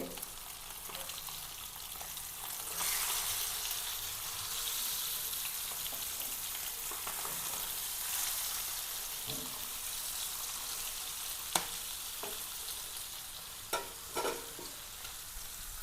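Continuous, even sizzling of pearl spot fish shallow frying in a pan, with a few soft clicks and taps as the fish is handled and flipped.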